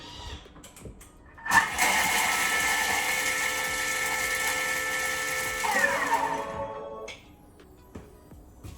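A food processor chops thirty sage leaves with a loud, whirring mechanical buzz that starts abruptly, runs steadily for about five seconds, then cuts off.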